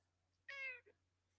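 A house cat gives a single short, clear meow followed by a tiny trailing chirp, close by and alone against a low steady hum in a quiet room.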